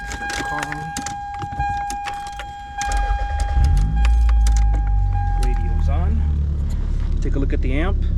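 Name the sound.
1990 Toyota Celica GT-S being started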